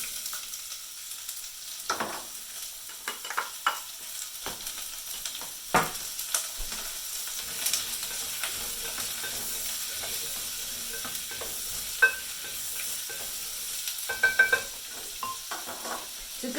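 Diced onion sizzles and crackles in heated olive oil in a saucepan, with intermittent scraping and clicking of stirring over a steady close frying hiss; no one speaks.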